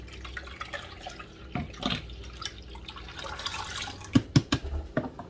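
Grape juice pouring and trickling into a container, with soft splashes and a few sharp knocks and clinks toward the end.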